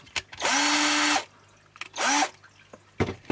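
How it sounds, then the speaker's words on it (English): A power drill whirs in two bursts, a longer run then a shorter one, with a steady motor whine and brief clicks between. "So for this I'm gonna need a drill"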